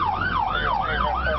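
An ambulance siren wails as an EMS rescue unit departs on a priority call, loud and close with a steady rising-and-falling sweep repeating about every half second.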